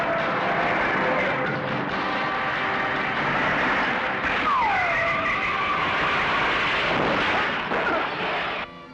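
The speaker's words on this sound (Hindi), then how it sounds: "टायर पंचर हो गया, भागो।" A car skids after a punctured tyre, with a sustained rough roar, a squealing tyre sweep midway and loud dramatic effects layered over it in an action scene.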